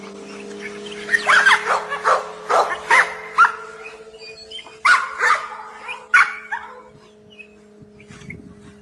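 Game-bred dogs bark close by in a string of sharp, loud barks mixed with whimpers and yips, spread over several seconds before tapering off.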